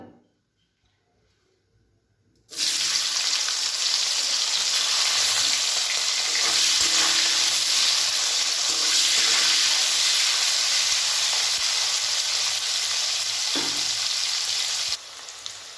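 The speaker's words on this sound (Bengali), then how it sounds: "এবার ওই তেলের ভেতরেই উচ্ছেগুলো দিয়ে ভেজে নেব।" Bitter gourd dropped into hot oil bursts into a loud, sudden sizzle after a short near-silence, then keeps up a dense crackling hiss with a few stirring knocks.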